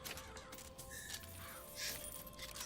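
Harsh crow caws from a swarm of birds unleashed by a combat power in Bioshock Infinite, several scratchy calls over a noisy game backdrop, fairly faint overall.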